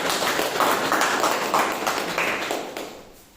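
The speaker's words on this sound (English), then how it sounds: "have a big round of applause" Audience applause at a Toastmasters club meeting after a table topics contest, a moderate burst of clapping from a small group that fades out over a few seconds.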